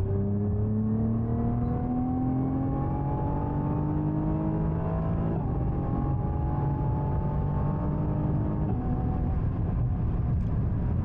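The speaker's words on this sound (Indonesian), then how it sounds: "Valve exhaustnya baru terbuka dan suaranya baru kedengeran berbeda." A Nissan GT-R R35 Nismo accelerates hard with its exhaust valve open, its engine note climbing steadily through rising pitch sweeps with brief dips at the gear shifts, sustained and loud.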